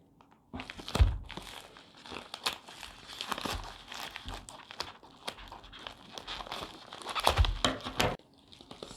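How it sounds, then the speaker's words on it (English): A shipping package holding a silver bar is cut open, giving close, continuous crinkling and crackling of packaging with rustling handling noise and a few sharper tearing snaps. "I'm just gonna cut this open."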